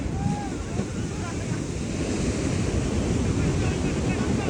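Sea water surges onto a beach with a continuous rushing roar of waves and heavy wind buffeting the microphone, loud and close, with voices partly buried beneath it.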